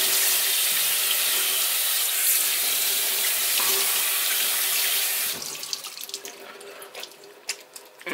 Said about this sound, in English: Give this a good rinse.